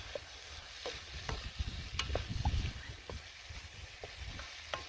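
Noodles and bean sprouts are stir-fried in a wok over a Trangia camping stove, giving a soft crackling sizzle under scattered scrapes and taps of a utensil, fairly quiet and close, with a brief busier burst midway.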